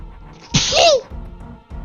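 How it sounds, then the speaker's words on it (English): A person gives a single sharp sneeze, close and loud, with a quick intake before the burst, and quiet sounds before and after. "I need to sneeze again."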